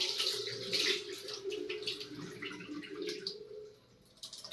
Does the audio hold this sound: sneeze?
no